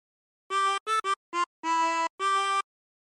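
A 24-hole tremolo harmonica plays a short Yankee Doodle phrase: six distinct wavering notes, some clipped and some held, clean and close with silence before and after.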